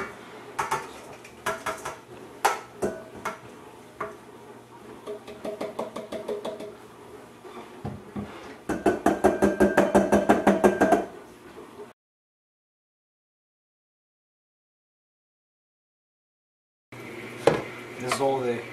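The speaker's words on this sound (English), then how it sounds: "So we're going to make do and use a colander." Flour being sifted through a colander into bowls while making homemade lasagna noodles, with rattling, tapping and clinking of metal and dishware in bursts, a dense shaking stretch, then a gap of silence before more clatter.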